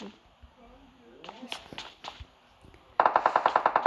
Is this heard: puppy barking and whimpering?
no